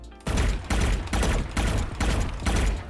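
Chronovoid skin gun in a video game fires in rapid bursts, about six loud, broadband volleys separated by short gaps, close and alone with no talk.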